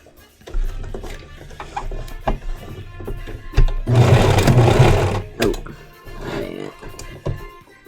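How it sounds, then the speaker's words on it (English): Sewing machine re-stitching a short stretch of seam on a commissioned piece, running in a steady mechanical burst for about two seconds amid surrounding clicks, thumps and handling noise, close and fairly loud. "This spot didn't quite stitch as far as I'd like it to, so I'm going to re-stitch it."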